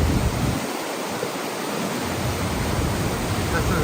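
Duchesnay Falls in North Bay rushes in a steady, loud, broadband roar of pouring water that fills the whole stretch without a break, heard close by on the first day of spring.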